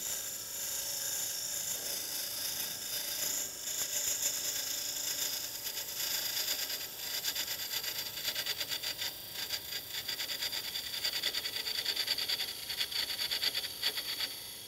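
A parting tool cuts into wood turning on a lathe, giving a continuous bright, gritty whir with rapid ratcheting chatter that holds steady and close for the full stretch, with no voices.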